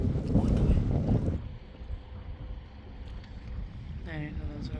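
A small boat out on the water, a loud gust of wind rumble at first, then a low steady drone of motor and water, with a brief voice near the end.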